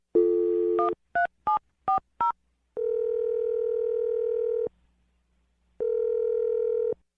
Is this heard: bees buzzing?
no